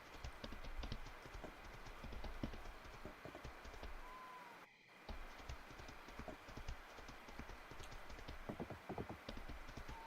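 Clip-clop hoofsteps of a cow mount in a cozy crafting video game, a steady quick trot of light clopping footfalls repeating close up, with a brief gap midway and no talk.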